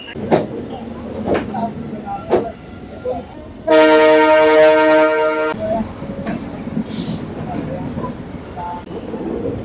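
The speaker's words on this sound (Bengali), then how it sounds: "এখন হচ্ছে ট্রেন ছেড়ে দিয়েছে" A train pulls out of Shalimar station and sounds a loud, sustained horn for about two seconds, set against rumbling rail noise and brief voices before and after it.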